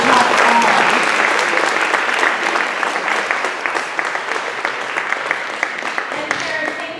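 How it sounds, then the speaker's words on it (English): A theatre audience at a school play applauds steadily, a dense wash of clapping hands that holds loud and even for several seconds before tapering slightly near the end. "Please, round of applause."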